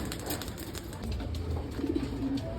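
Breeder pigeons coo softly and low in a loft as birds are let out, the murmuring calls steady beneath a constant rustle and flutter of nearby birds.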